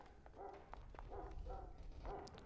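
A dog barks in a Dragon Age video game, four short, muffled barks spaced about half a second apart over a steady low background hum.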